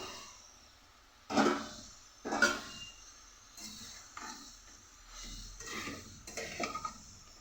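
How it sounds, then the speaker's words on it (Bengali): Fried papaya and potato pieces are tipped into cooked masala in a pan, giving a few quiet clinks and scrapes of a utensil against the pan spread over several seconds, with no talk. "এর মধ্যে দিয়ে দেব ভেজে রাখা পেঁপে আর আলু"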